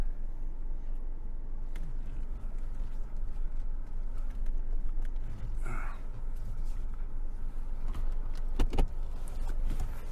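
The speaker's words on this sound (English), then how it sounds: "You'll see it as I back out and try not to go off the edge." A car backing out slowly, its engine a steady low rumble close by with a few small clicks and rattles from inside the cabin and no talking.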